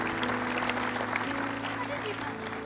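A studio audience on a stage show gives a mother steady applause, a dense wash of clapping that runs throughout beneath constant hum and some faint voices.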